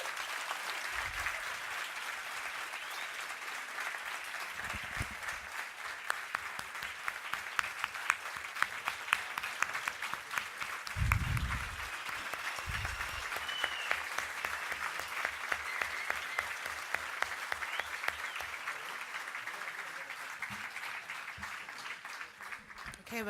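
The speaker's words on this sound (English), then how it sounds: "if you guys could just give one more round of applause" An audience at the SAPA General Assembly 2024 in Chicago gives a long, sustained round of applause, dense clapping that swells and holds for over twenty seconds, with a few low voices and thumps underneath.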